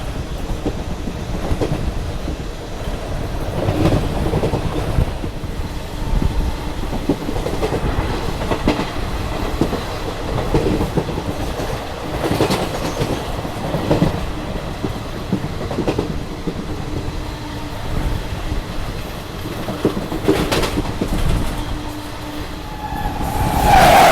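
An Agra–Ahmedabad special train runs on the rails near Vadodara, with steady rolling rumble and rhythmic clickety-clack of wheels over joints sustained close by throughout.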